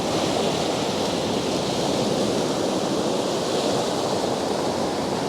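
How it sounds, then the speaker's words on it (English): Ocean waves wash onto a shoreline during a landscape photography shoot, heard as a loud, unbroken roar of surf that stays close and even throughout with no voices. "We want those waves to push all the way."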